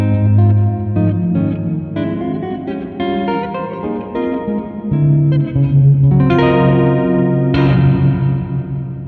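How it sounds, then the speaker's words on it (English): An electric guitar through a UAFX reverb pedal plays chords and single notes drenched in lush, lingering reverb, each strum blooming into a long, shimmering tail. "just so you can hear how the character of the reverb sounds"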